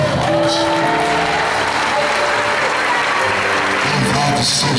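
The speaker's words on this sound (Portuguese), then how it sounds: "Vamos aplaudir o Senhor bem forte." A church congregation applauds loudly and steadily, a thick wash of clapping filling the room, with voices calling out over it.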